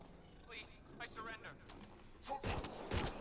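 Bursts of gunfire in the video game Mass Effect: Andromeda, a couple of loud rapid volleys near the end following quieter game sounds, with a voice talking over part of it.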